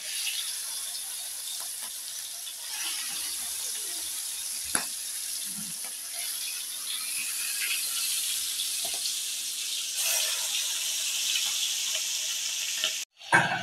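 Hilsa fish and egg fry in a pan over a gas flame, giving a steady, close hissing sizzle with a few light clinks, then a sharp clatter at the end.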